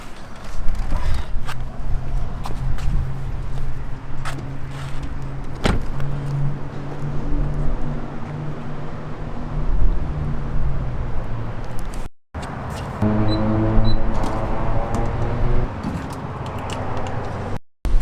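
A BMW E92 M3 engine and exhaust, a steady mechanical drone with rising tonal sweeps and brief interruptions, fairly loud and close, with faint knocks and clicks around it.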